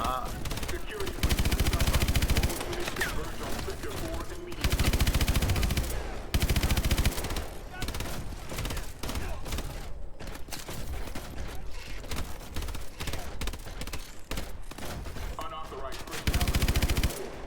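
Call of Duty: Advanced Warfare gunfire rattles in loud bursts of rapid automatic fire, with sustained volleys recurring through a dense, noisy battle soundscape.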